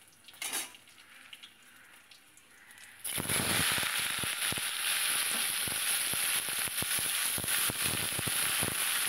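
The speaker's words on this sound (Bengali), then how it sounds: "এবার শাপলাগুলো তেলের ওপর দিয়ে দিয়েছি।" Salted water lily stems hit hot oil in a pan, and after a few quiet seconds a loud, dense crackling sizzle bursts in and continues steadily, close by.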